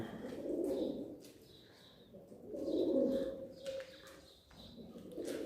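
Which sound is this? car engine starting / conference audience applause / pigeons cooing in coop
pigeons cooing in coop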